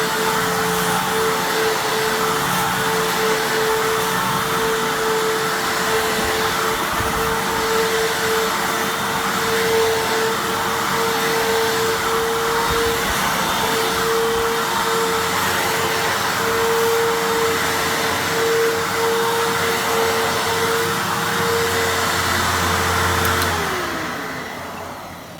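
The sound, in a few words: Fantom Fury vacuum cleaner running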